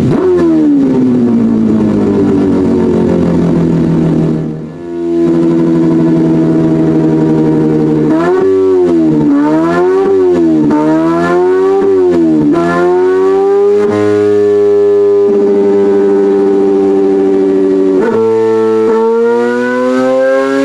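A simulated rotary engine, modeled without drivetrain flex, revs up through a run of gear shifts, its loud, smooth buzzing tone climbing and then dropping sharply at each change, heard alone without talk.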